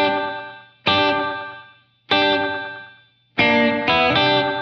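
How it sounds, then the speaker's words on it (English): An electric guitar plays a rockabilly riff on the low strings in four struck chords with heavy distortion, each ringing out and decaying before the next, the last two hammered quickly together. "you can hear there's some guitar riffs going on in the background."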